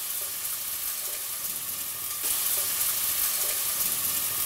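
Courgettes frying in olive oil in a pan during home cooking of a risotto, a close continuous sizzle that swells louder halfway through as they are stirred, with no speech.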